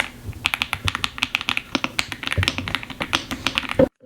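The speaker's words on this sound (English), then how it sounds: "I need you to hear the creaminess of these keyboards" Rapid, irregular clacking keystrokes on a creamy-sounding computer keyboard, close and fairly loud, running steadily for about four seconds and then stopping abruptly.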